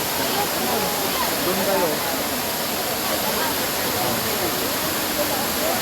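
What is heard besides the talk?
waterfall at Daranak Falls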